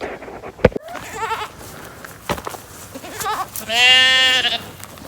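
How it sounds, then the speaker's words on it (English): A sheep bleats loudly and clearly near the end, after quieter rustling and scattered farmyard sounds on a farm. "And then we got the sheep."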